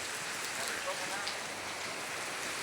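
A heavy downpour falls on a flooded road, its dense, even hiss steady and unbroken, heard alone without voices.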